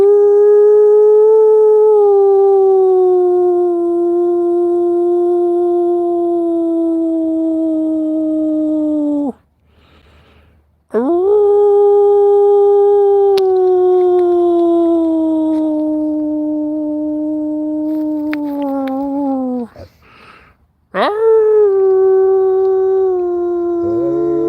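A dog howls in long, sustained wailing tones, three drawn-out howls separated by short pauses, loud and close with no talking.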